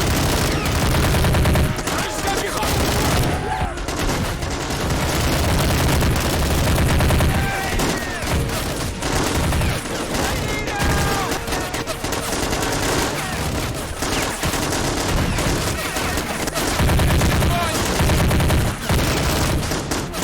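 Sustained firefight in a battle simulation video game, with dense volleys of gunfire and bursts of automatic fire crackling loudly throughout, punctuated by heavier booms and occasional voices underneath.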